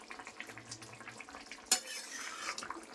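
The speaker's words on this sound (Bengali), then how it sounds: "আস্তে আস্তে নাড়তে হবে, নাহলে বড়াগুলি ভেঙে যাবে।" Bora curry being gently stirred in a pan, soft scraping and a bright clink of spoon on metal over a low background hiss, close and quiet, with no talking.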